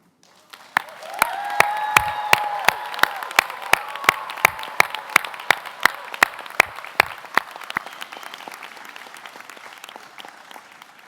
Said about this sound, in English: give us a big round of applause and a huge cheer for